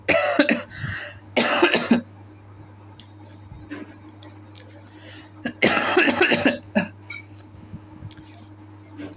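Several bursts of coughing from a single person, close and loud, in clusters near the start and again midway, separated by quiet stretches over a low steady hum.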